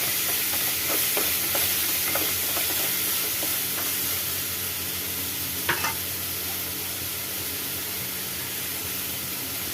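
Chopped ridge gourd pieces sizzle steadily in a hot pan, with a run of scraping stirs early on and a sharper clatter midway, the frying hiss continuing throughout with no talk.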